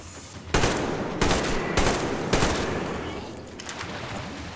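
Gunfire in the video game Metro Exodus: four loud, sharp shots spaced about half a second apart, each trailing into a reverberant tail, then quieter fading noise.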